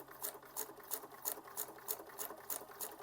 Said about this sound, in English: I'm going to sew around this flap